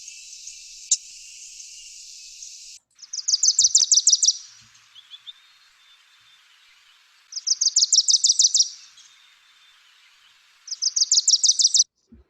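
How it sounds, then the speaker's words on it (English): Wilson's warbler sings three bright, rapid chattering bursts of evenly spaced notes, each rising in loudness then stopping, separated by quiet gaps after an opening steady high buzz. "So Wilson's warbler,"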